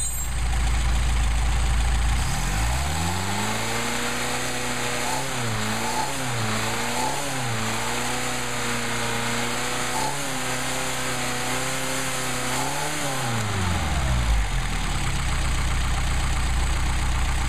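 A Mercedes 190SL engine runs on freshly adjusted Solex carburetors, starting up, idling and revving a few times in steady swells before shutting off; loud and close, with no talk.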